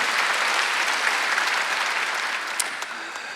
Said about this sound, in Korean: 박수 하나 둘 셋 그런 거죠.